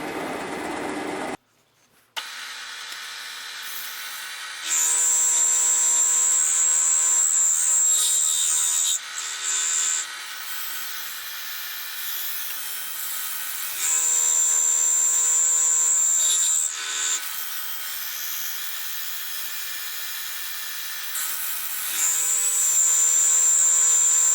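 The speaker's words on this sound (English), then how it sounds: "I've got to be careful because I'm climb milling here as well." A milling machine climb milling a steel tailstock die holder gives off a steady motor whine with a high cutting squeal that rises in several long passes and drops back between cuts, with no talking.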